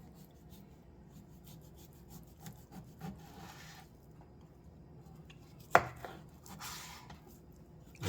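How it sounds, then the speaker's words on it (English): A knife cuts fat-trimmed beef into quarter-inch slices for Korean barbecue beef jerky, making soft scraping strokes on a board with one sharper knock midway. The sound is close but quiet, and no one speaks. "Just trim off the fat, and then just cut it roughly about a quarter of an inch thick"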